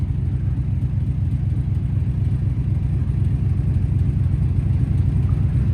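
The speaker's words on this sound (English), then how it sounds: "So first go with the Martian crane." A Leyland Martian recovery truck runs its crane, the diesel engine giving a steady, loud, low rumble that holds evenly with no pauses.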